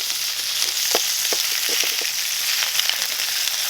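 Steady, loud sizzling of beef frying in a thin pan outdoors in the woods, with faint pops and crackles throughout.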